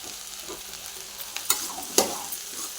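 Okra and tomato sautéing in a pan for a village-style bhaji, a soft steady sizzle broken by sharp spatula scrapes and clicks as the vegetables are stirred, no talking.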